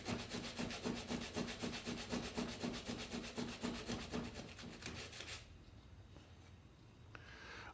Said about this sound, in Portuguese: Agora vamos entrar com a lixa.